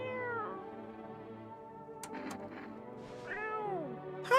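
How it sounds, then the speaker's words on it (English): A cat meows repeatedly in the video game No, I'm Not a Human, with drawn-out, wavering cries rising and falling over a steady background tone, fairly soft and close. "Come here, cat, so I can pet you."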